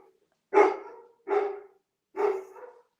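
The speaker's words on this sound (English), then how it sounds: "I don't know if you can hear dogs or not, but there's dogs." Several dogs outdoors bark in three distinct bursts about a second apart, moderately loud and close, with short pauses of quiet between them.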